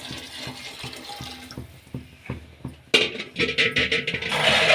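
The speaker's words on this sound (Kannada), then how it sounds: "ಈಗ ನೀರು ಹಾಕ್ಕೊಳ್ಳೋಣ." Water is poured into a cooking pot of avarekalu masala gojju on the stove. Soft clinks and small knocks come first, then a gushing pour splashes in close and fairly loud.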